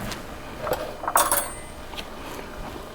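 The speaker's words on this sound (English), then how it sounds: "let me grab a spoon real quick" Metal spoon clinks and scrapes against dishes in a home kitchen while cooking Southern cabbage and potatoes, a few short bright clinks clustered in the middle with faint clatter around them.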